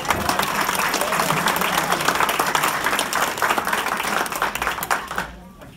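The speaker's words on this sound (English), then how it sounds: "So I'd like to give them a round of applause." Audience at a veterans' Thanksgiving dinner at an Elks lodge applauding steadily and fairly loudly for several seconds, dense clapping with some voices mixed in, fading out at the end.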